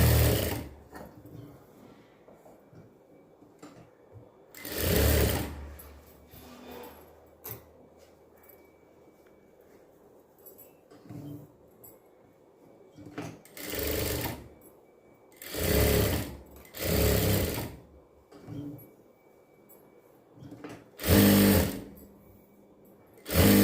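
A sewing machine runs top stitching through blouse lining fabric in several separate bursts, each a few seconds long, with quiet pauses between the runs.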